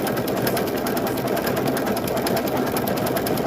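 A sewing machine stitches steadily through rope, a continuous, even mechanical whir with rapid needle ticks throughout, close and loud, running alone without talk.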